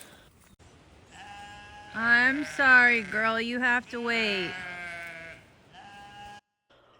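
Dairy ewes bleat loudly and repeatedly close by, overlapping cries with wavering pitch, while a person speaks briefly among them.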